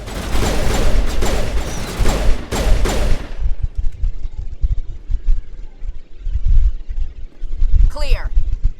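Gunfire from the video game Mass Effect 1, a dense fusillade of loud rapid shots for the first few seconds, then scattered lower impacts and mechanical clatter with game voices over it.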